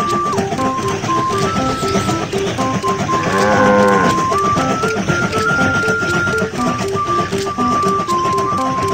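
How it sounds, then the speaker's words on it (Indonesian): Cartoon sheep bleating on a railway track in the Baby Bus children's train game, a clear animal call rising over cheerful, steady game music and sound effects. "Kawanan domba ada di jalur."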